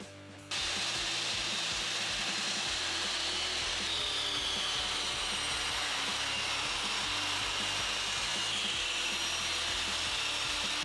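Wood slices being cut about 45 mm thick for an end-grain cutting board, a steady, loud continuous power-saw whine and rasp running without a break through the cut, with no talking.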